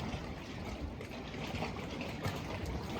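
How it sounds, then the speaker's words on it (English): Steady broadband wash of ocean waves rolling in continuously, a soft even roar with no distinct breaks, heard up close and alone, in a quiet seaside setting at Abaco. "sound of the waves"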